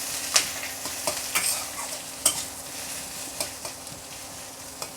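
Two large chopped onions stirred and frying in hot oil, a steady moderate sizzle punctuated by sharp clicks and scrapes of the spatula against the pan at irregular intervals.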